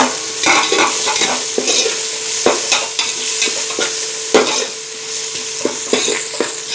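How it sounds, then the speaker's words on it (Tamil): Coriander leaves sauté in a pan for prawn biryani, a continuous close sizzle broken by repeated scraping and clinking strokes of a stirring spoon. "இப்போ நம்ம கொத்தமல்லி சேர்த்து 1 நிமிஷம் வதக்கிட்டோம்"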